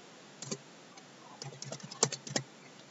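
Username and password typed on a computer keyboard during a website sign-in, quiet key clicks in short irregular bursts, with a few slightly louder taps standing out.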